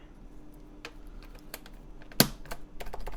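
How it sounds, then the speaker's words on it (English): A Topre escape keycap snapped onto a keyboard: one sharp, loud click stands out among scattered softer plastic taps and clicks, close up, with no talk. "nice snap. We have our classic snap on Topre."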